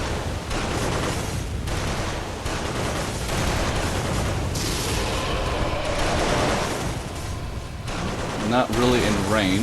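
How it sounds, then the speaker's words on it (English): Rapid gunfire from the gothic action video game Bloodborne in the Hunter's Nightmare area, heard as dense continuous volleys and booms at steady loudness, with a voice speaking near the end. "Got some bullets coming our way."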